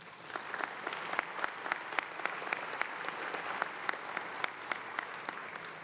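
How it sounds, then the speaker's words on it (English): Applause from a conference audience in a large hall at a medical opening ceremony, a dense, even patter of many hands with sharper individual claps standing out, held steady and moderately distant. "I'd like a round of applause for these three."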